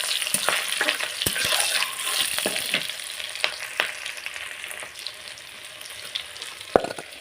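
Chopped green chillies and onion fry in hot oil in a pan and are stirred now and then, giving a steady close sizzle broken by scattered sharp scrapes and clicks of a spoon against the pan.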